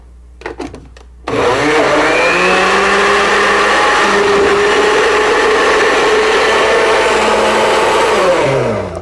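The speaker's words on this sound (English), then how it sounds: "pop our peaches into our blender" Blender whirring through peaches for sorbet: after a brief quiet start with a few faint knocks, the motor kicks in loud and close and runs steadily for about eight seconds, its pitch shifting slightly as the fruit breaks down.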